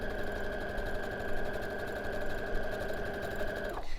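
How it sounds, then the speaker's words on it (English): A sewing machine runs steadily, sewing a quarter-inch quilt seam from top to bottom in a continuous even whir before stopping abruptly near the end. "then we're going to sew that seam. So again, 1/4 inch seam allowance, and sew from top to bottom"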